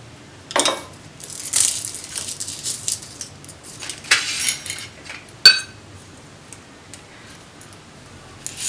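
Moong dal, chana dal and toor dal dropped into an iron kadai for roasting, giving loud, rattling clatters and clinks in several uneven bursts with brief pauses between.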